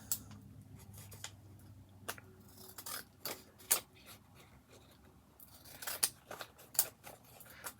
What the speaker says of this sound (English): I don't like this scissors. This one. It doesn't cut like clean.